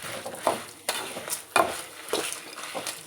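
Coriander seeds are stirred and roasted in a pan, giving soft, dry scraping swishes every half-second or so, close and moderately loud, with light sizzling between strokes.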